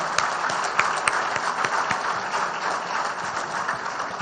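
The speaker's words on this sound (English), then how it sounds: "I think she deserves a huge round of applause." A large audience at an outdoor ground-breaking ceremony for a research lab gives a steady, dense round of applause, sustained throughout with no one speaking over it.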